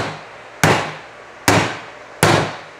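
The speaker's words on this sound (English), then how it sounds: "grab a hammer" Hammer strikes a graphics card into place on an AMD crypto mining rig: three loud, sharp, close knocks spaced under a second apart, each ringing off briefly.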